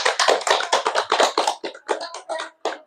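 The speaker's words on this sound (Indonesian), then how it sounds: "Tepuk tangan dulu yuk untuk kita semua." A small group claps at a gathering, a quick burst of irregular, close hand claps that thins out into scattered taps over a few seconds.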